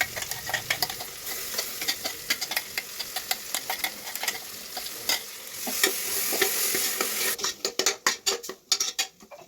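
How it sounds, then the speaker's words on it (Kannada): Ground masala paste fries in oil for methi pulao, giving a loud continuous sizzle under a quick series of metallic spoon scrapes and clinks against the pan, which grow louder and more rapid toward the end. "ಮಸಾಲೆನ ಚೆನ್ನಾಗಿ ಎಣ್ಣೆಗೆ ಫ್ರೈ ಮಾಡಬೇಕು."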